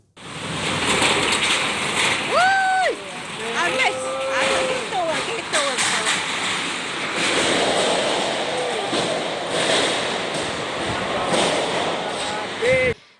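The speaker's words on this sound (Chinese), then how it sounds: "狂风暴雨肆虐" A fierce wind and heavy rainstorm lashes Kuala Lumpur, a dense, continuous roar of rain and gusts throughout, with brief rising whistle-like tones early on and a sharp burst near the end.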